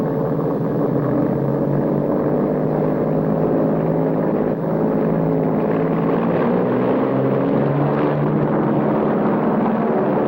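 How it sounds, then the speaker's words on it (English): WWII Japanese aircraft roar overhead in a steady, loud, unbroken propeller drone with rumbling engine harmonics that hold on throughout. "108 planes were in the skies."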